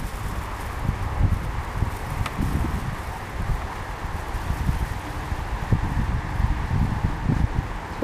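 Wind gusts buffet the microphone with a constant low rumble and rustling, steady throughout, with faint scattered clicks beneath.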